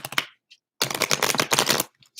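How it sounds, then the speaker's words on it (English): Tarot cards shuffled close up in two bursts of quick, crisp riffling, a short one then a longer rattling run after a brief pause, with a faint tap between and no talking. "One more shuffle."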